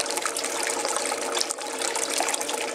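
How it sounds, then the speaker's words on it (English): Pumped water rushing down a Prospectors Choice 19A2 finishing sluice box, a continuous loud close gushing and splashing wash without talking. "The pump is pumping as much water as it can"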